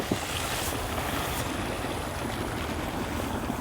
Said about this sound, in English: The pressure from that hose pipe is gonna mix all of this stuff around.